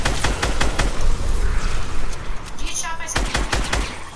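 Gunfire in Fortnite: bursts of rapid shots with a brief lull and a tonal effect in the middle, then more quick shots, loud and close, with a voice talking over it at times.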